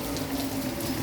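Rain begins to fall on a August day in Gujarat as a steady, close hiss of drops, even and unbroken, with a low rumble underneath and no voice.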